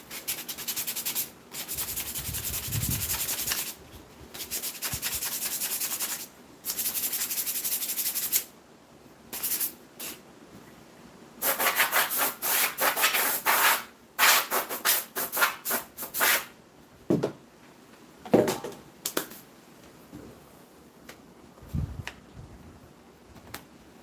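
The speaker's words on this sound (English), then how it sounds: "I hate sanding masks so much." Sandpaper rubs against a mask in bursts, long strokes at first then shorter rapid scrapes, close and dry with pauses between.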